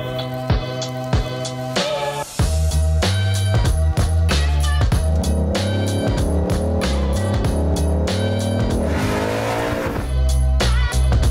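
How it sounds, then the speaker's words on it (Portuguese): On a track, a Ford Mustang Mach 1 V8 roars loudly through repeated revs and gear changes, with tires squealing and skidding over the engine across roughly eleven seconds. "a gente vai para a pista com muito ronco de motor V8 e pneu queimando"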